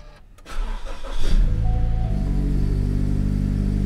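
A Toyota 86 2.0 GT with an aftermarket throttle controller and about 50,000 km starts up close by: a short crank catches with a rising burst, then settles into a steady, rumbling idle.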